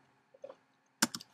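A few key presses land on a computer keyboard while a command is entered, a couple of soft isolated taps followed by a brief close cluster of sharper clicks.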